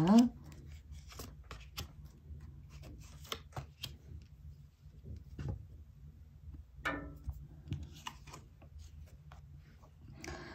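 Tarot cards are shuffled and drawn, giving soft scattered taps, rubs and flicks of card stock, quiet and close, with brief pauses between them and a faint voice at times.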